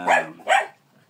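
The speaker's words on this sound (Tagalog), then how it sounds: "hindi mo mapigil, aso lang." Two close, loud dog barks in quick succession, then a short fading tail, no talking over them.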